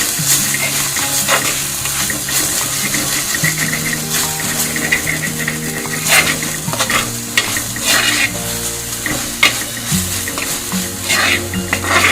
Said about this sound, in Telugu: కొద్దిగా వేగనివ్వండి